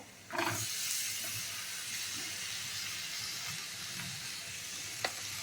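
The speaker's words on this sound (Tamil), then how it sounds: "இப்போ நான் கேப்சிகம் போட்டுக்கிறேன்." Capsicum hits a hot pan with a sudden burst, then settles into a steady, close hissing sizzle with occasional small stirring taps and one sharp click near the end.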